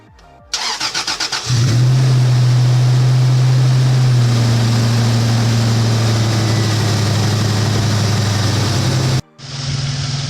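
A 2000 Toyota Tacoma pickup truck engine cranks a few times, catches, and settles into a loud steady idle, close by, before a brief cut.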